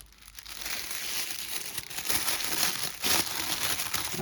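A Star Wars Black Series Luke Skywalker action figure is unwrapped from tissue paper, giving a steady close crinkling and rustling with sharper crackles throughout.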